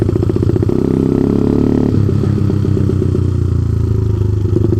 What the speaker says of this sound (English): it's Bismoto out on the CT70 clone, Ice Bear Champion. I did some work to it, got the new carburetor on